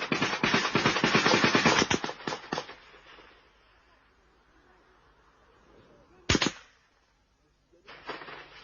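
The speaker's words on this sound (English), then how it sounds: "comrades open fire as soldiers are spotted unexpectedly" Machine-gun fire during an ambush by a road in Uganda, as soldiers are spotted unexpectedly: a dense rattling burst for about two seconds tapers off, followed by a single sharp loud crack and a later distant flurry, all fairly close.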